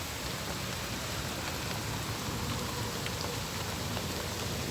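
Steady rain pours down outdoors, a dense continuous hiss of drops striking surfaces, close and even throughout with no voices over it.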